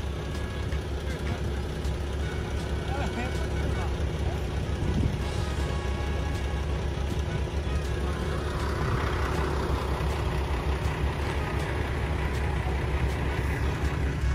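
Heavy trucks idling in a long traffic jam at a roadworks stop, a constant low engine rumble with occasional clatter, heard from inside a vehicle with people talking over it.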